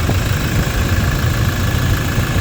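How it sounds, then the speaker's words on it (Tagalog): A Toyota Innova engine runs steadily at an even idle, a smooth low rumble with no sputtering, close by and uninterrupted. "Smooth na yung pinakatakbo ng makina."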